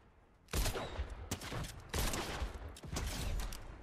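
Fortnite gunfire, with bursts of rapid shots in three loud clusters, close and dense, with mechanical clatter between volleys.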